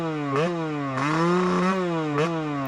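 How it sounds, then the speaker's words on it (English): A 2024 Yamaha 250 two-stroke motocross bike launches with sharp, buzzing revs that climb, dip and climb again as the rider rolls on the throttle, loud and close throughout. "This is the second 250 two-stroke I've actually ever ridden. Here again, we do a little bit of a launch."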